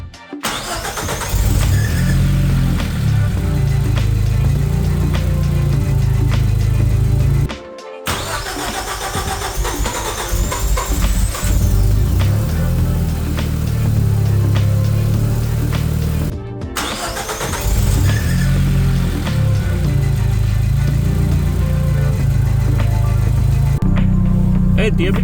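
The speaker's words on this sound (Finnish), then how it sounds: "Konehan lähti ihan tosi mukavasti tulille" A car engine warmed by a Motorwerk Qtherm 1000W engine heater cranks and starts three times, each start settling into a loud, close idle, with talk over the engine.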